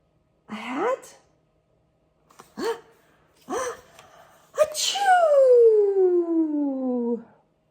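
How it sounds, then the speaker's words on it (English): A voice acts out an elephant's big sneeze with a few short sharp intakes and then a loud, drawn-out sneeze that trails off, with some speech around it. "Elephant had a big sneeze."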